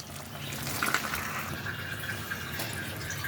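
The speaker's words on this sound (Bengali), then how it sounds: "দিয়ে আস্তে করে ঝোলটা আমি নামিয়ে নেব।" Fish curry gravy with pennywort leaves being ladled from a pan gives a close, wet sloshing and trickling of liquid, with a few light metallic clinks along the way.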